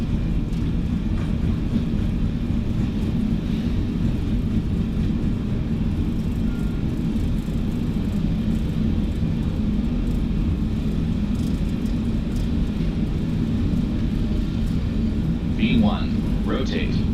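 Fenix Airbus A320 takeoff roll in Microsoft Flight Simulator 2024, a steady loud low engine rumble and roar sustained throughout, with brief faint higher tones near the end.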